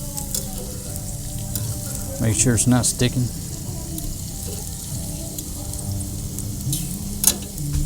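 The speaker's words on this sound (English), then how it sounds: "Yeah, everything's sizzling along." Food sizzles steadily on a grill, with brief scraping and stirring bursts partway through; a person speaks over the frying.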